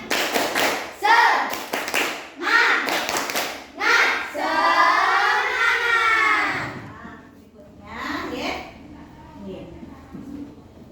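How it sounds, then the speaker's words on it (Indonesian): A primary school class doing a rhythmic spirit clap, bursts of group clapping in a set pattern mixed with children chanting along, loud and close, ending in a drawn-out collective shout. "Yuk, tepuk semangat."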